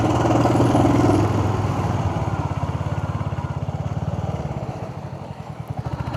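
A Royal Enfield Hunter 350 motorcycle runs close by, its single-cylinder engine loud and throbbing at first, then settling into a steady, rapid thumping beat that continues under light clatter.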